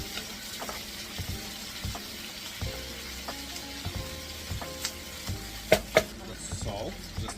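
Browning food for a budget ravioli lasagna is stirred in a pan, with a steady sizzle and a scattering of light scraping and clinking taps from the spoon. Two sharper knocks come near the end.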